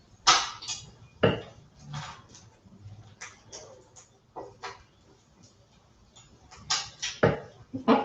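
A knife slices through avocado during kitchen meal prep, giving a series of sharp, close clicks and taps against a board and dishes at irregular intervals, with soft scraping between them and no talking.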